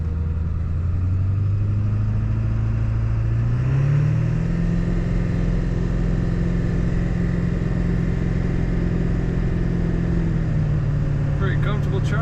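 A 2001 Ford F-350 Lariat Super Duty SRW work truck driving, its engine droning loud and close from inside the cab, pitch rising as it accelerates then holding steady before easing off, with a voice talking over it.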